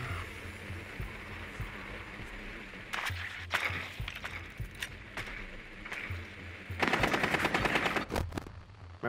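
Gunfire in the tactical shooter Rainbow Six Siege: rapid automatic bursts and single cracks come in clusters throughout, loudest in a dense burst near the end, with no talking.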